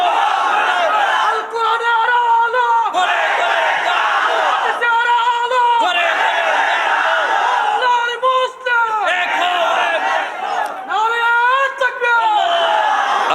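A large crowd at an outdoor Islamic tafsir sermon gathering in Paharia Khali shouts the takbir together in four loud, rhythmic roars, each swelling and fading with short gaps between them.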